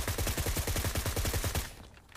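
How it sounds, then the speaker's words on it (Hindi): Rapid bursts of automatic gunfire in a mobile battle-royale shooter game, a dense rhythmic volley of shots that runs loud and steady before cutting off near the end. "अभी मेरे ऊपर दो बंदों के शॉट्स आते हैं"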